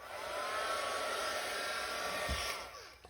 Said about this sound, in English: I'm just going to give it a quick blast over with the heat gun.